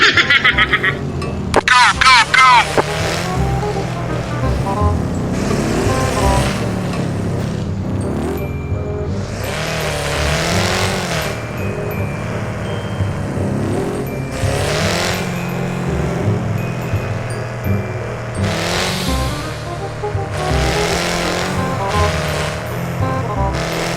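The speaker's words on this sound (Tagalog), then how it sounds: "Nag-Tokyo Drift ba naman sa buhangin?" An off-road vehicle drifting on sand, engine revving and surging in repeated bursts under near-continuous talk and background music.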